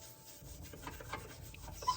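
Cleaning paste such as pink stuff or baking soda scraped along a kitchen surface, making quiet, rough rubbing strokes that repeat unevenly, with a small sharp click near the end.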